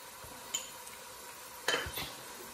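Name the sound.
stirring garam masala into the pan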